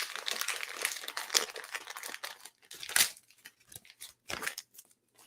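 Wrapping paper on a gift being torn and crinkled open in irregular bursts of rustling and ripping, fairly close, with quieter pauses between pulls.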